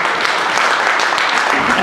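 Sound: audience applause, standing ovation

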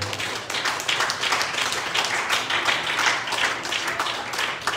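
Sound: congregation clapping hands

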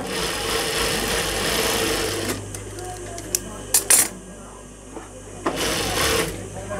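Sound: sewing machine stitching a boy's salwar

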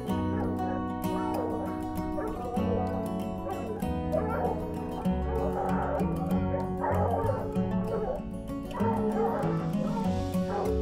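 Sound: hounds barking while chasing

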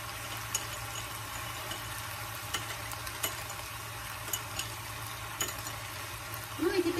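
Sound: stirring sauce with sugar

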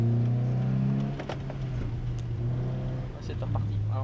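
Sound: car driving around a race circuit

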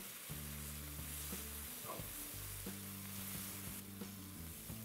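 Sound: potato cubes frying in oil

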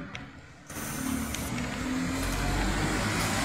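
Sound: bus passing in Newark

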